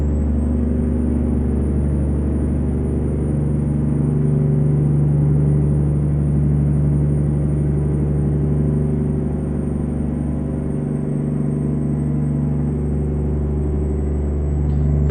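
Steady, loud droning engine of an International 9800 cabover truck cruising in high gear in American Truck Simulator, a continuous low rumble with a faint whine above, unbroken throughout with no talk.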